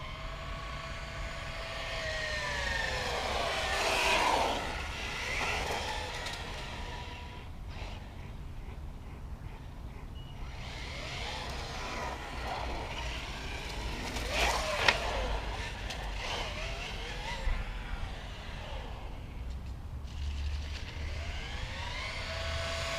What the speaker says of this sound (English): I love the sound of the tires drifting on the ground.